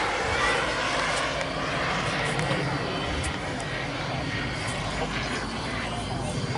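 Loud, steady roar of a ViperJet jet aircraft passing close by during a flight demonstration at an airfield, broadband engine noise filling the whole stretch with faint voices mixed in.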